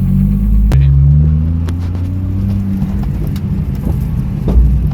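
A small radio-controlled car motor whines and revs unevenly, with scattered knocks and scrapes as it bumps over rough, boggy bush ground; no talking.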